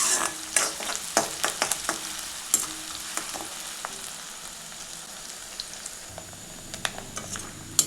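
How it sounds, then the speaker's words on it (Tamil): Small onions (shallots) frying in a pan for a Kerala rice cake, giving a steady close sizzle broken by sharp crackles and pops with occasional stirring, with no talk. "அதையும் சேர்த்து நல்லா பொன்னிறமாக ஆகிற அளவுக்கு 2த்தையும் சேர்த்து வறுக்கணுங்க"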